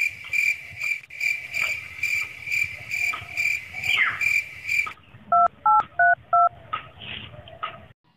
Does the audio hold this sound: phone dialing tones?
yes